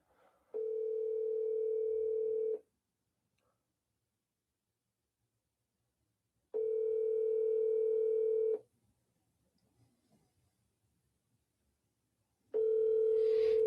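Three identical steady tones of a telephone ringback while placing a call, each about two seconds long and separated by roughly four seconds of silence, clear and alone.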